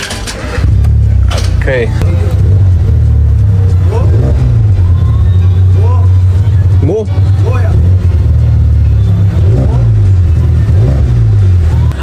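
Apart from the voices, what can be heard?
lowered VW Citi Golf car reversing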